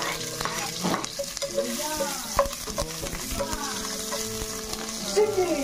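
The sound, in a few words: stirring food cooking in a pan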